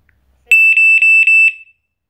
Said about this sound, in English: As you heard, the siren beeps four times.